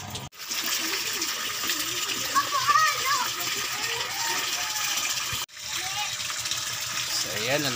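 Water splashes and gushes steadily as it is poured into a container holding koi fish, with a voice and other talking heard over the flow.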